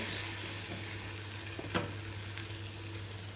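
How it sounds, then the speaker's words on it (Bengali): Fish pieces, including heads and a tail, fry in oil with a continuous close sizzle and a few faint stirring taps over a short stretch without speech. "মাছ আমি ভেজে নিলাম।"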